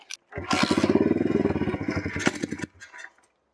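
A motorcycle engine is cranked after a carburetor screw adjustment, giving a loud, close, rapid chugging that sputters for about two seconds, then dies out to quiet.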